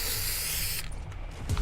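A spray can used in the video game Fortnite gives a bright, sustained hiss that cuts off sharply partway through, followed by quieter game sounds and a few faint clicks.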